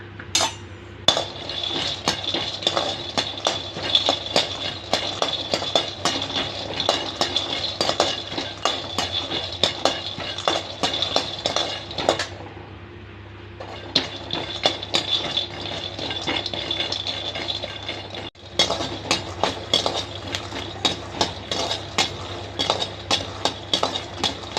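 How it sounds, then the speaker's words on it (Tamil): Peanuts roasting in a pan with steady stirring, giving a continuous scraping and light clinking of spoon against metal with faint sizzling throughout, alone without talk, briefly pausing near the middle. "நிலக்கடலையும் வறுபட்டுச்சுங்க."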